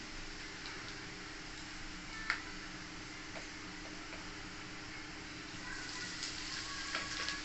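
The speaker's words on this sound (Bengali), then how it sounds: "হিংটা পুড়ে না যায় তার জন্য এখানে নাড়াচাড়া করবো।" Black cumin and asafoetida sizzle softly in hot white oil in a kadai while being stirred, a steady faint crackle with occasional light ticks from the spoon.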